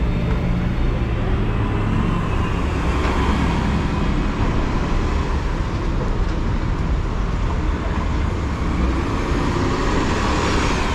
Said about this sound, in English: There goes the city buses right there